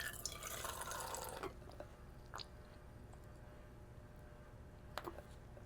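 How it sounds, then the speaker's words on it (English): Water is poured onto a freshly repotted anthurium, making a brief soft gush that then gives way to a few separate, close drips against quiet background hiss. "now we're gonna water this baby in"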